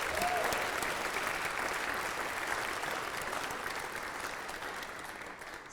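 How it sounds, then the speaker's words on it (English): Sustained applause from a large audience honoring ten teachers and a principal at an awards ceremony for excellence in teaching, steady dense clapping that fades slightly toward the end. "Let's give them a hand of applause."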